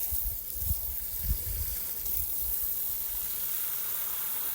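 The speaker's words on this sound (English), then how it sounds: "Put your water in." Water pours and gushes into a planting hole in a herb bed, a soft, steady splashing hiss with a few low thuds at the start, close by and with no talking.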